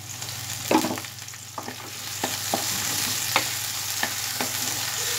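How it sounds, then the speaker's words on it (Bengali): Chopped onion frying in a pan with whole garam masala, asafoetida and cumin over a medium gas flame, a steady close sizzle broken by occasional clicks and scrapes of stirring. "পেঁয়াজটাকে হালকা ব্রাউন কালার আসা পর্যন্ত গ্যাস মিডিয়ামে রেখে আমি ফ্রাই করে নেব"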